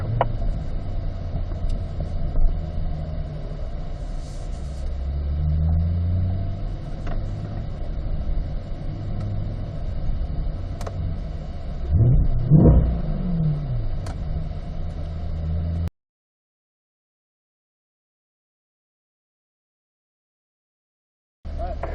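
Cars running an autocross course at a performance driving school, heard from nearby as a steady engine rumble with a louder revving pass around the middle, then sudden silence before the sound briefly returns at the end.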